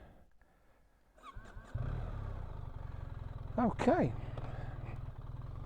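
A BMW R1300 GS motorcycle engine cranks and fires after a quiet start, settling into a steady, throbbing idle that swells briefly mid-clip; a voice speaks a single word near the beginning.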